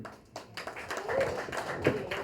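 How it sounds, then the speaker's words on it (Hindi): Audience at a press meet for the upcoming show Pyaar Sey breaks into applause, a steady, dense patter of many hands clapping at moderate loudness for a couple of seconds. "अविनाश के लिए और जोर से ताली प्लीज"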